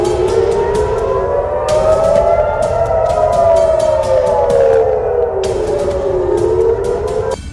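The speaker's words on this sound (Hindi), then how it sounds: "इससे पहले मिसाइल या रॉकेट अटैक वाला सायरन भी बजा।" Missile or rocket attack warning siren wailing in Haifa, Israel, a loud, continuous rising and falling tone with faint crackling noise layered over it.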